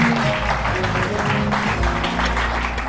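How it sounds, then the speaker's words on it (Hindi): Studio audience on a morning talk and cooking show claps in a steady, loud wash, with a low hum and music-like tones underneath throughout the few seconds. "तालियां हो जाएंगी इससे."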